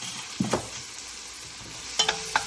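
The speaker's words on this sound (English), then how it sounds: "Give it a stir." Onions, ginger, garlic, celery seeds, turmeric and salt in a frying pan for Indian masala goat chops get stirred: a low sizzle with two clusters of scraping and clinking of utensil against pan.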